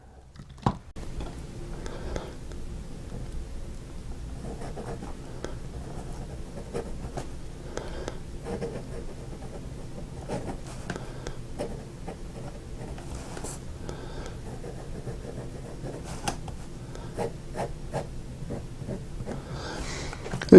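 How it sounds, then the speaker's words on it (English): A Wing Sung 618 black piston-fill fountain pen glides over paper in a quiet, steady scratching with small ticks and lifts, close up and soft, going on for about twenty seconds without talk. "I love the way this pen writes consistently all the time."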